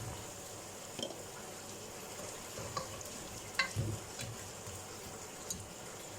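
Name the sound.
chicken frying with ginger garlic paste for biryani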